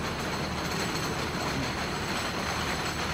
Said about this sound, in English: I'll record the train on the Alpine Express